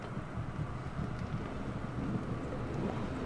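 A thunderstorm rumbles in the Sherlock Holmes The Awakened game, with steady low rolling thunder and rain noise washing evenly through the whole stretch, no voices.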